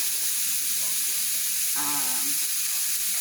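Beef being prepared for canning cooks in a hot pan with a dense, steady sizzle throughout, broken briefly by a short clatter of stirring near the middle, close and fairly loud with no voices.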